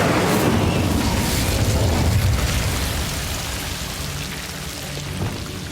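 Incendio fire spell cast in the Hogwarts Legacy video game, a loud, dense roaring blast with rumbling low end that swells for about two seconds, then settles into a steady crackling rush that fades slightly.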